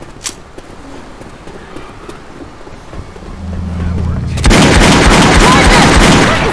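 Gunfire in Left 4 Dead 2, with sparse sharp cracks at first, then a dense loud burst of rapid shooting that takes over near the end.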